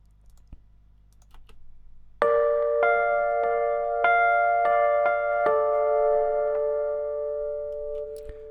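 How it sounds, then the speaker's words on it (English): Mellow electric piano notes and chords ring out one after another, sustained and clear, slowly fading, after faint clicks at the start. "So sounds like a classic electric piano."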